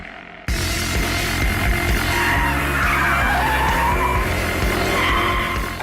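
A BMW M5 in full track mode skids and smokes its tyres: a loud, close, sustained engine roar with steady squealing tyres that begins abruptly and holds for the rest of the stretch.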